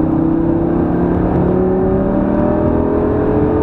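A Lamborghini Gallardo on a racetrack holds a steady, loud engine drone that climbs slightly in pitch as it accelerates, close and continuous with no talk over it.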